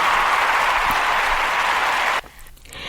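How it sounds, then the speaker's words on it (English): Studio audience applause on a talk show, a dense continuous burst of clapping that cuts off sharply after about two seconds, leaving quieter room sound. "Can we get an applause on that"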